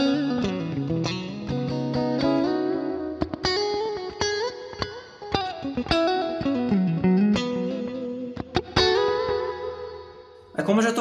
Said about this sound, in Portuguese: no efeito 1, eu tenho o mesmo clean do de baixo, só que com um delay já ativado e com mais reverb